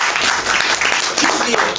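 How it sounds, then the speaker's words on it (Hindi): Applause from the audience at a Hindi-language birthday gathering, dense clapping sustained throughout, with voices carrying underneath. "तालियां बजाए, तालियां बजाए"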